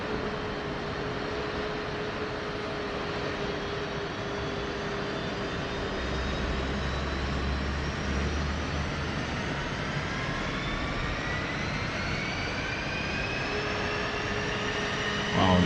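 Low-flying jet aircraft in the DCS flight simulator, a loud steady engine roar with rising whine as two jets pass close, with no talk.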